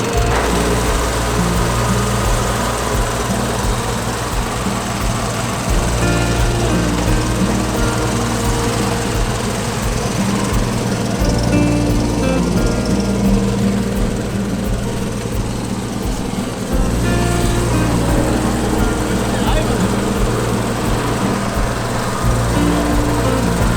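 Rotary lawn mower cutting seeded Kentucky bluegrass on a first mow, a loud steady engine drone held close throughout with small shifts in load and no talking.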